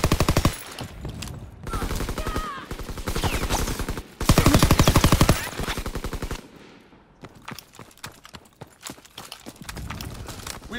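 Call of Duty WW2 multiplayer hardpoint match, with bursts of rapid automatic gunfire in loud, dense volleys separated by short pauses and scattered single shots, close and harsh.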